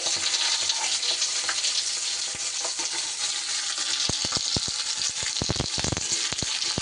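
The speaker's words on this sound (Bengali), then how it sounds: "শিমটাকে একটু সুন্দর করে ভাজতে ভাজতে এদিকে আমি একটা মশলা তৈরি করে নেব" Broad beans fry in a pan with a continuous, close, loud sizzle, joined near the end by a burst of sharp clicks and taps as they are turned, with no voices.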